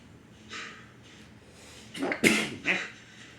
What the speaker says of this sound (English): Excuse me for sneezing right there.